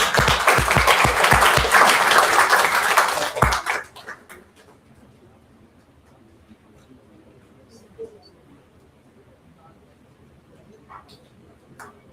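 Audience at a university orientation program gives a round of applause, dense clapping for the first few seconds that stops abruptly, leaving quiet room tone with a few faint clicks and murmurs.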